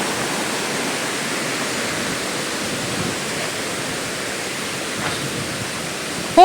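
Rushing water at Hebbe waterfall in Chikmagalur, a broad, constant roar that stays even and fairly loud throughout, with no voices.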